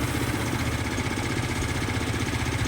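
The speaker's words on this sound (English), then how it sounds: "Now our engine's running at a slow speed." A carburetor-jet engine turning over at a slow 1875 rpm, a loud, steady mid-to-low drone with a fine, even vibrating pulse and no pauses.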